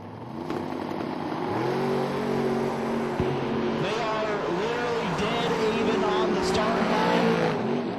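A Thunderbird drag racer launches and accelerates down a drag strip at an elimination event, its engine roaring in a loud, sustained, rising drone with shifting pitch over steady background noise for the whole stretch.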